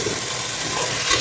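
Potatoes frying in oil with browned onions for a coconut curry, a dense steady hiss of sizzling, close and even, with no talk.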